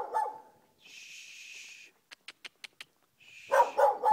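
A dog gives a quick run of five short, sharp yips or barks, close by, with a hiss and a person's voice briefly before and after.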